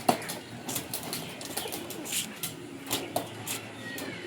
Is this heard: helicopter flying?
no